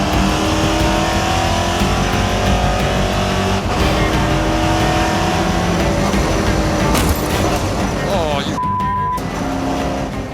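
NASCAR race cars bunched bumper to bumper pull away together from a rolling start in a 30-minute European race, a loud dense engine roar building throughout with a brief tire squeal, while someone talks over it.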